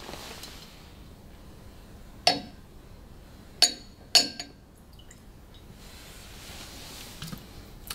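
A whisky bottle's cork with a heavy metal top is handled, giving three or four sharp glassy clinks and taps spread apart over a quiet room background, no speech.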